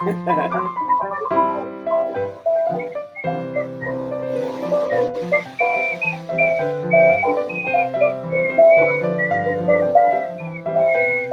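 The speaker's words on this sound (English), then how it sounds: "You were just whistling" A person in a kitchen whistles a wandering melody of clear sustained tones, close and fairly loud, with a musical backing underneath.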